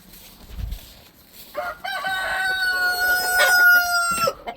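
Chickens cluck and crow nearby, a rooster's drawn-out call rising over softer clucking, with a brief low thump at the start.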